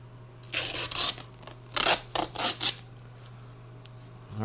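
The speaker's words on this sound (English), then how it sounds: "Alright, we got all that tape off there." Heavy-duty packing tape is pulled off a newly delivered laser engraver in several quick ripping strokes, two bursts of three or so sharp tears, close and clear over a low steady hum.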